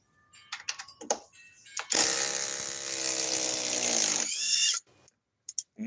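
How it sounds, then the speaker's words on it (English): A Hercules impact driver running on a DeWalt battery removes fasteners with a close, loud burst of rapid hammering rattle lasting a couple of seconds, set between scattered clicks and handling knocks. "Let's see how this Hercules, their top of the line impact driver with tablet cell DeWalt power pack battery,"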